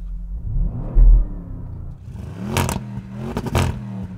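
A 700 hp Audi RS7 idles with a low rumble, then its engine is blipped twice in sharp, loud revs that rise and quickly fall, heard close up without talk.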